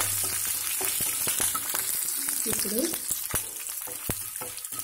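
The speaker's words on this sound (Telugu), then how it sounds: "ఇప్పుడు కరివేపాకు 1 ఎండుమిర్చి వేసుకుందాం." Curry leaves and dried red chili dropped into hot tempering oil crackle and sizzle loudly up close, with a brief spoken word at the start.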